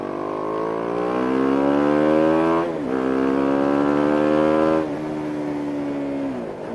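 A BMW G 310 R motorcycle engine revs hard and loud nearby, its tone climbing in steady sweeps with two brief dips where the throttle eases before winding up again, with no voices over it.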